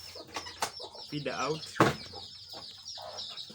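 Young chicks at a poultry feeder clucking and peeping in short bursts, close by, with a person talking briefly over them.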